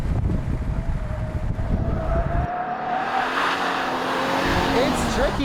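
An all-wheel-drive car drifts through a corner. The engine roars loudly, the pitch swings as the driver lifts off and brakes, and a hissing tyre and wind noise follow. Voices may be faintly present under the engine.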